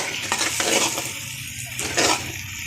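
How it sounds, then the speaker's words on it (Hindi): Beaten eggs are stirred into browned onions in a pan, producing a loud sizzle broken by repeated scraping spoon strokes and a few utensil knocks. "अंडे डाल के आपने इसको अच्छी तरह इसके अंदर मिक्स करना है"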